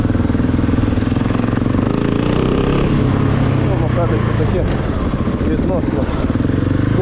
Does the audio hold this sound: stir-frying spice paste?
no